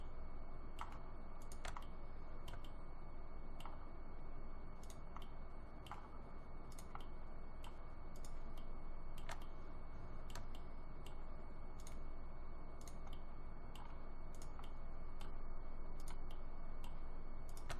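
Sharp, quiet computer mouse clicks come in an irregular series over steady low background hiss, as several items are selected one after another while the shift key is held.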